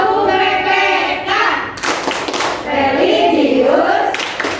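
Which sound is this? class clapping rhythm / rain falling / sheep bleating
class clapping rhythm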